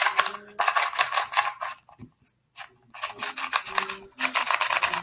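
A QiYi Qifa Square-1 puzzle cube's scratchy outer layers are turned in quick bursts of raspy, rubbing scrapes, close up, with a short pause in the middle.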